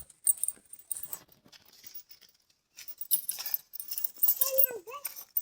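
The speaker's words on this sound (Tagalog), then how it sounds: "May aso dyan." A dog is heard outdoors amid intermittent jangling and clattering noises, with short yips or whimpers rising near the end while people talk nearby.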